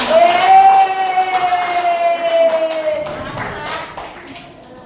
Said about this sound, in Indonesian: Ini sudah tepuk tangan untuk teman-teman